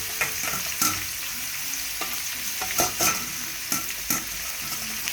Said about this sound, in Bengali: পেঁয়াজটা প্রথমে একটু ভাজা ভাজা করবো, লাল লাল একটু ভাজা ভাজা করার পরে চুলাটা ফুল পাওয়ার দিচ্ছি